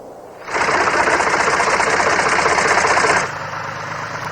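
A tractor carrying a prototype pheromone-painting rig for cotton plants runs loud and close, a dense rapid mechanical chatter that starts abruptly, holds steady for about three seconds, then drops back to a lower hum.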